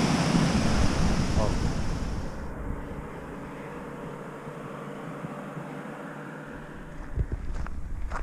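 Water rushing out of dam outlets into a mountain stream: a loud, steady broadband roar that softens partway through, then continues as a constant wash with wind noise mixed in.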